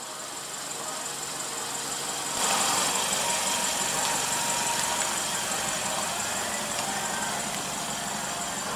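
A 2015 Kia Sportage compact SUV engine idles after start-up, a steady mid-level hum with a slight rise in loudness partway through and no speech over it.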